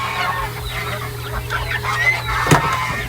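Egg-laying hens in a backyard coop cluck steadily and close by, a continuous murmuring chorus of overlapping clucks with one sharper call near the end.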